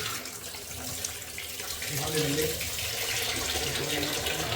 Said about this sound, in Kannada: ಮಶ್ರೂಮು ತೊಳೆದಿಟ್ಕೊಳ್ಳಿ